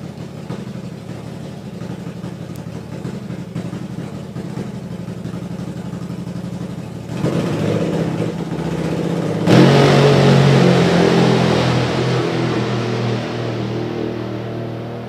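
Drag racing motorcycle at a main event meet, engine burbling at idle and then revving hard into a loud, rising roar that fills the later seconds.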